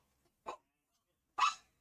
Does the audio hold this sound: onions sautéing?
no